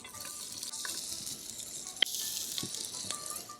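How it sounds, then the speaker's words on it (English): Fresh onion sizzles in vegetable oil on a hot tray heated over an indoor gas hob, giving a steady close frying hiss with a few small pops and clicks and no talking. "Hear the sizzle, it smells gorgeous"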